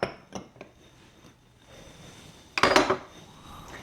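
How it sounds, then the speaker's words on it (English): A fork scrapes and clinks against a bowl while stirring crumbs, sugar and melted butter together for a cheesecake crust, with a few light taps early on and a louder cluster of scraping strokes near the end, close and fairly quiet. "I'm just going to use a fork to mix all of that together till it's completely mixed"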